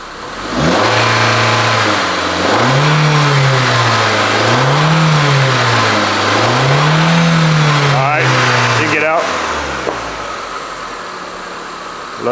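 Engine of a Mitsubishi Lancer, found abandoned in a storage unit, revving up and holding near 2,500 RPM in several rising and falling swells, loud and close, before dropping back toward idle with some clatter near the end.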